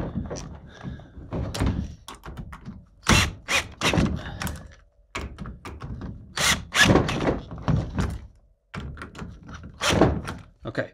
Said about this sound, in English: 3/8 socket on a drill, I'm going to run these in